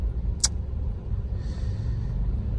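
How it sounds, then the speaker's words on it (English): Busy town road traffic at evening rush hour in Hurlingham: a continuous low rumble of passing cars and engines. A brief sharp high click comes near the start, and a faint whine rises about halfway through. "Traffic is like crazy."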